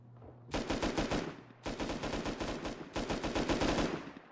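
Automatic gunfire in the survival video game Rust, three sustained bursts of rapid shots, loud and close, with brief gaps between them and no talking.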